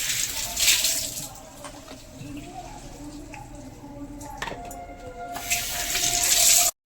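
A kitchen tap runs into a sink while fish pieces are rinsed, making a continuous splashing water stream with light knocks and clinks and a louder gush toward the end.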